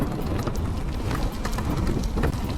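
Heavy monsoon rain on the road between Mumbai and Lonavala falls steadily, a dense broadband patter mixed with wind buffeting, loud and continuous with no talking.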